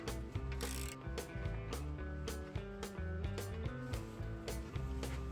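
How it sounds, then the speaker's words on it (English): Hand ratchet loosening the rear axle nut on a 1980 Honda XR80 motorcycle, heard as quick, evenly spaced clicking strokes over a faint humming background, with no talking. "The first thing I'll do is remove the axle nut."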